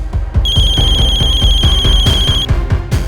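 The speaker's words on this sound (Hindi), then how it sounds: "फोन उठाओ" An electronic telephone ring trills steadily for about two seconds over a rhythmic, thumping beat.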